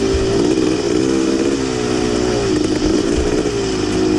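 A big bore dirt bike engine revs hard and continuously during a cross-country race, loud and close with a buzzing, wavering pitch and no talk.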